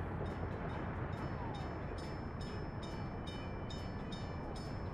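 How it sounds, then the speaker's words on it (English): A train rolls steadily along the track in the video game Workers & Resources: Soviet Republic, with a continuous dense rumble and a series of faint, regular high clicks from the wheels passing rail joints. "now is this train going back to the depot?"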